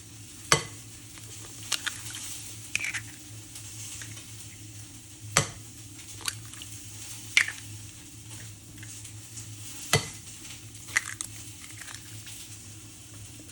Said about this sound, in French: On y casse ensuite 4 gros œufs.